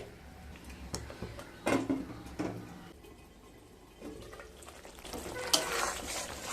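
Spices sizzle in a pan for a Bengali potol chingri dish, with scattered scraping stirs and clinks of a spatula against the pan, fairly quiet and close.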